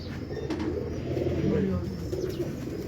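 Ambala pigeons on a Karachi rooftop coo softly in low, throaty calls over a steady outdoor background hum, with a couple of faint chirps.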